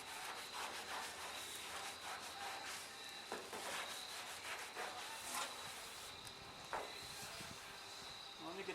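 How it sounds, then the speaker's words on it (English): Scrubbing at rust on the roof of a 1967 Mustang: faint, steady rubbing strokes back and forth, with a few sharper scrapes. "I'm going to have to scrub a little harder"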